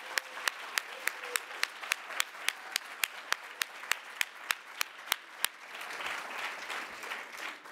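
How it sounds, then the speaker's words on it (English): An audience applauds the students who presented at a Three Minute Thesis competition. A few loud, regular claps stand out over softer clapping from the crowd, then the sharp claps stop and broad, diffuse applause continues. "give a round of applause to all of the students that presented today"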